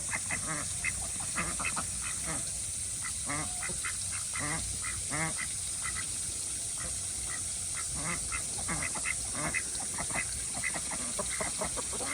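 Ducks quack repeatedly at a pond, a steady run of nasal calls at moderate distance over a constant background hiss, with no talk.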